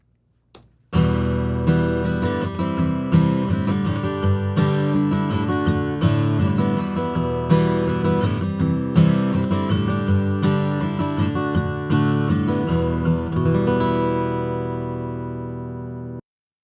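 Sustained electric guitar passage shaped with EQ matching and notch filtering, chords and single notes strummed and picked continuously for about fifteen seconds, loud and present, then ringing out to silence at the end.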